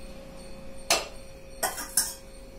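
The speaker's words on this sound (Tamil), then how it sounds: "இப்ப இத ஒரு பாத்திரத்துக்கு மாத்திக்கலாம்." Metal vessels clink as rasam is transferred into another pot in a home kitchen: three short, bright clanks, the first alone and the last two close together, over a quiet hum.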